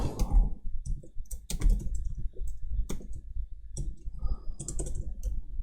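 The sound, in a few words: computer keyboard typing HTML code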